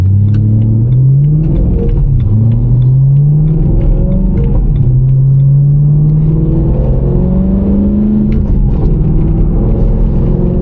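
A BMW M3 engine hums and rises through steady gear changes while driving, with a smooth revving tone throughout and no voices.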